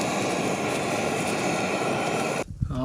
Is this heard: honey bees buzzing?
no